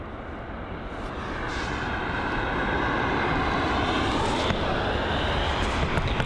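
An American Airlines Boeing 777 departs London Heathrow, and its jet engines make a loud, broad roar that swells and holds steady, close by.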